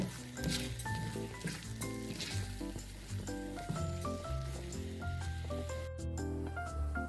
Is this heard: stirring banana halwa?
yes